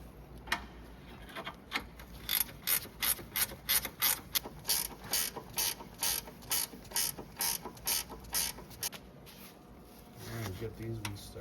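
Ratchet wrench snugging 10mm bolts on the radiator of a 2007-2011 Toyota Camry 2.5L, a steady run of quick clicking strokes close up, with a brief low rumble at the end.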